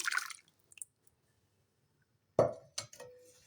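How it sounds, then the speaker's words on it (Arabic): Tomato sauce going onto spaghetti makes a brief wet plop and squish at the start and another burst with a light clink near the end, separated by quiet, heard close and faint. "هنزل بيها على المكرونة"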